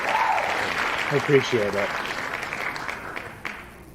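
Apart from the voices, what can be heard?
audience applause for a guest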